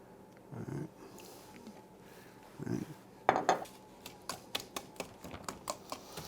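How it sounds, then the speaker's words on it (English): Eggs, flour and cream being mixed in a bowl for corn pudding, heard as a few soft scrapes followed by a run of quick clinking taps of a utensil against the bowl. "I'm going to mix this together with the 6 eggs"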